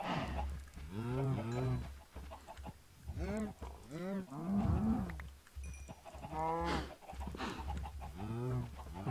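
Minecraft cows moo repeatedly, several drawn-out lowing calls close by with pauses between, against faint background game sounds and occasional soft clucking.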